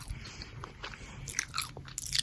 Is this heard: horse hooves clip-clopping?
no